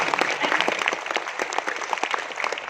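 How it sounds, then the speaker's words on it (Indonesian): An audience at a Prudential sales event claps for colleagues, a bright, busy patter of many hands that stays fairly even and close for the whole stretch. "Tepuk tangan dong buat teman-teman."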